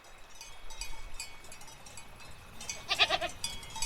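A goat in a stable yard gives a brief, faint bleat near the end, over a quiet outdoor background with scattered clinks and rustles and no talking.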